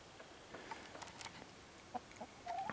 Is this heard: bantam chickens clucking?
yes